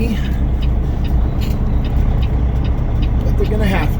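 Road traffic rumbles past a truck waiting at a tight loading dock, producing a dense, continuous low engine drone with passing vehicles and faint hiss throughout.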